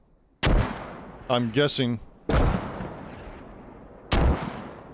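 Three heavy mortar blasts in the video game Squad boom out at spaced intervals, each a sharp impact with a long rumbling decay, with a voice speaking between the first two.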